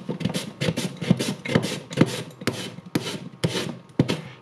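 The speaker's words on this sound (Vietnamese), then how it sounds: "Có thể sử dụng cái đồ bào hoặc là cái này cũng được, hoặc là dùng dao mình bằm bào nha, từng sợi từng sợi." Green mango shredded on a grater for a mango salad, a steady series of quick wet rasping strokes, close and fairly loud, with no talking.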